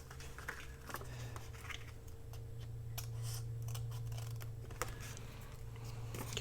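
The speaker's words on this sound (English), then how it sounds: "So I'm just going to cut these little pieces off of the side." Scissors snip small pieces off the side of a paper bag insert, a series of quick, light cuts close by over a steady low background hum.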